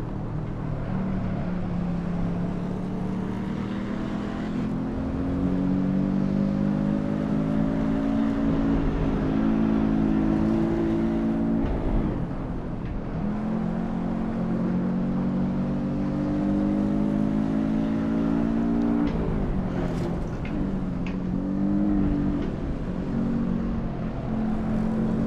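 Race car engines from a Roadster Rivals heat at Tor Poznan in a racing video game, a steady droning whine that rises and falls through gear changes over about 25 seconds, moderately loud with no talk.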